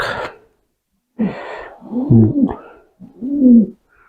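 A pigeon coos close by in a few soft, throaty bursts separated by brief silences, with a short breathy sound at the start.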